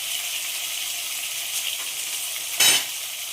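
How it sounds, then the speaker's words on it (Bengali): Fish frying in hot oil, a steady close sizzle with a brief louder scrape near the end as pieces are turned, no talking. "আর একটু এরকম উল্টো পাল্টা করে ভালো করে মাছগুলো আমি ভেজে নেব।"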